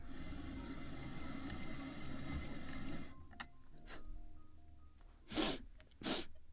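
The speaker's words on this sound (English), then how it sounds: "I want to sneeze more." A person sneezes twice in quick succession, loud and close, at a model shipwright's workbench during a gun carriage build for the 1776 gunboat Philadelphia. A steady mechanical hum runs beforehand and then cuts out.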